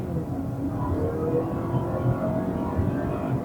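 A Honda CR-V e:HEV hybrid SUV accelerating on a short stretch of road, its drivetrain a steady mid-level hum that climbs gently in pitch while the cabin rumbles low throughout.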